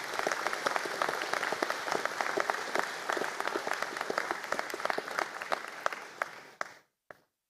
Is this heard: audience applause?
yes